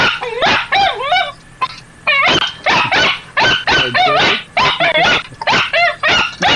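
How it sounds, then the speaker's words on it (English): An excited dog barks in rapid bursts mixed with high whimpers and yips, loud and close, barely pausing across the stretch, with no talk over it. "The dog is losing his fucking mind."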